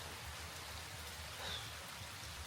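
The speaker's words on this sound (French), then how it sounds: "Et là, il pleut, il neige." Rain falls over a fire-damaged manor in wet wintry weather, a steady even hiss of drops hitting surfaces with no talk.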